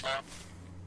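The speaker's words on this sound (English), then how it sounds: "one of my favourite things of the game is definitely the honk" A single goose honk from Untitled Goose Game, a short bright blast up front that quickly cuts off, leaving a low quiet hum.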